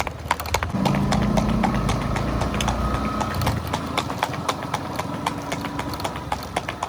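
A mare's hooves clip-clop in a quick, regular beat on hard ground, close and clear throughout, with a low rumble underneath.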